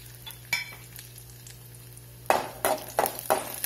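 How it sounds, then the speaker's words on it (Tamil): Cashews and raisins frying in ghee for green moong dal payasam: a low steady sizzle, then a burst of louder crackling and repeated stirring scrapes as they hit the hot fat, close and without talk. "அதுக்கப்புறம் இந்த நெய்யில் இந்த முந்திரி திராட்சையும் வறுத்து எடுத்துக்கிறேன்."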